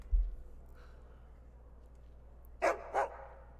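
Two quick barks from a dog in Skyrim, sounding at moderate distance inside the Winking Skeever inn, over a quiet low ambient hum.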